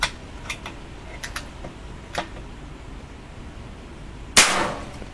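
An air gun fires a single sharp crack near the end, preceded by several light mechanical clicks and ticks from loading and cocking; the shot rings close and loud against a quiet background.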